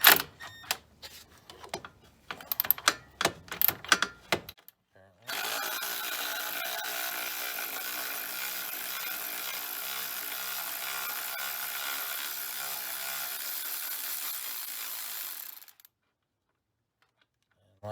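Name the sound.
Milwaukee power tool removing a sway bar bolt nut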